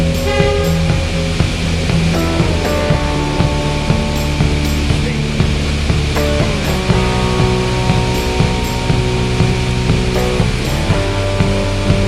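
The Savannahlander train rolls steadily along the rails with a loud, continuous engine drone and rhythmic wheel clacks, with no talk over it.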